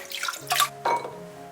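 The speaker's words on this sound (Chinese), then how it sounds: "再来准备半斤剥去壳的板栗，简单洗一下" Shelled chestnuts, about half a jin, are rinsed in water, making a few close splashing, sloshing bursts and a soft trickle, with no talking.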